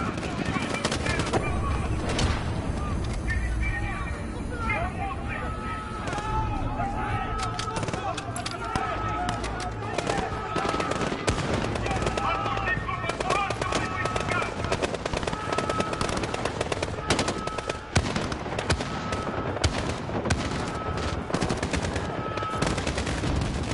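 Gunfire in a Modern Warfare campaign mission set in Urzikstan: steady bursts of automatic weapon fire and shots run throughout, loud and dense, with people talking over the shooting.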